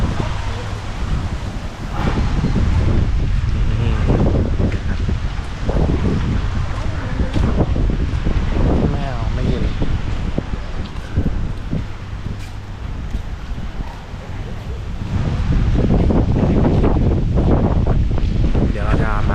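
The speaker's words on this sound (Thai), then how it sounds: "บรรยากาศตอนเย็นลมนี่เย็นมากนะครับ" Strong evening wind buffets the microphone on the beach at Hua Hin, a continuous loud rush over the sound of surf, with someone talking through much of it.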